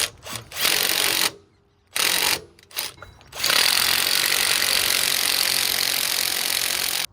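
Impact wrench driving brake caliper bolts on a 2022+ Nissan Frontier during a brake job, loud rattling bursts in a few short pulls, then one long continuous hammering run.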